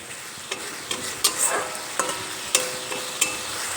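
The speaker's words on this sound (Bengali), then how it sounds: "এখন নেড়ে চেড়ে নেব সব মশলা একসঙ্গে মিশিয়ে নেব" Kashmiri red chili powder and turmeric are stirred in a sizzling pan of oil, with a spoon scraping in a steady rhythm roughly every half second over a constant low fry, close and clear.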